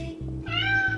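A pet cat meows once indoors in a makeup room, a clear, close, drawn-out cry over a low background hum.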